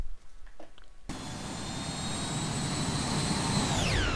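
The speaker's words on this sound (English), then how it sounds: "we can bump the turbines again a little bit." Bombardier CRJ200 jet engines in the X-Plane 10 flight simulator, heard as a sudden loud roar with a steady high turbine whine that holds, then bends in pitch near the end as thrust is increased while taxiing.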